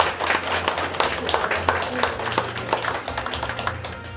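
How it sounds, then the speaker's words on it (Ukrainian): An audience applauds the winners at a literary contest results ceremony, with scattered close claps and taps forming a moderate, uneven round. "Давайте ще раз оплесками вітаємо переможців."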